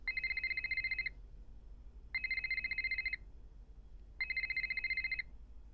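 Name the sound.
telephone ringing in Nancy Drew video game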